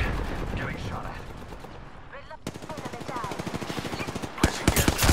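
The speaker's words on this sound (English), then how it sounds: "Getting shot at." Rapid automatic gunfire in the video game Apex Legends, dense bursts of loud shots with mechanical clatter, a brief lull near the middle, then sharper close shots at the end.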